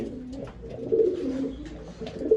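Pigeons in a fancier's loft coo steadily in low, rolling murmurs, several birds overlapping close by at a moderate level.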